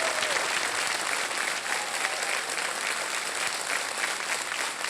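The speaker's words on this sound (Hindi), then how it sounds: "तालियों के साथ उनका हम स्वागत करते हैं." A studio audience at Kaun Banega Crorepati gives a Durand Cup organising committee vice chairperson a welcome of loud, dense, sustained applause, steady and even throughout with no voices over it.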